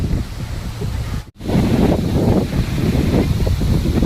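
Strong wind from Cyclone Montha in October 2025 roars and buffets continuously and loudly, dropping out for a moment before gusting back at full force.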